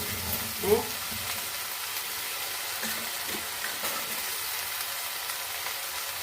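Okra being stir-fried for Kerala-style mezhukkupuratti sizzles softly and steadily in a pan, with a sharper scrape of the spoon early on and a few quieter stirring taps later.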